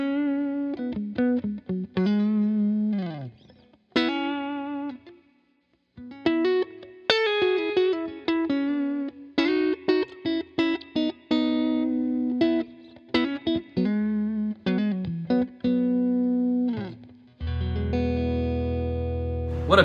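A PRS SE Custom 22 semi-hollow electric guitar plays bluesy phrases with bends and sustained notes through light effects, clear and close, ending on a thick chord, with no talking.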